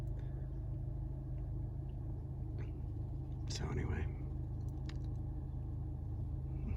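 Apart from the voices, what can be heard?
Honda Civic Type R engine rumbling while driving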